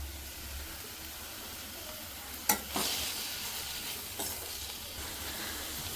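Ingredients sauté in a pan while jowar vadappa is being made, a low steady sizzle with a few sharp stirring scrapes and clacks, one loud knock near the middle, fairly quiet overall.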